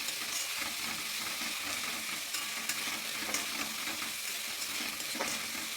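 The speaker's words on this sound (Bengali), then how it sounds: "মশলাটা ভালো করে কষাতে হবে যেন না মশলার কোনো গন্ধ থাকে" Spice paste for chilli soyabean is stir-fried in a pan, a steady, fairly soft sizzle with light scraping and spatula taps running evenly throughout, near and with no talking.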